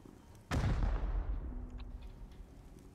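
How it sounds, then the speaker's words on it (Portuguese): A rocket launcher fires in the video game Rust with one sudden heavy boom, followed by a rumbling roar and a long fading tail, fairly quiet overall. "Deixa eu usar esse outro foguete aqui."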